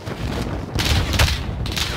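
Gunfire in the video game Call of Duty Warzone, two loud bursts of shots close together with a booming low end over about two seconds.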